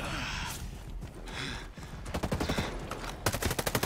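Gunfire in the video game Ghost Recon Breakpoint: rapid automatic bursts with sharp repeated cracks, loud and close, building into dense fusillades toward the end, with some breathy vocal sounds mixed in.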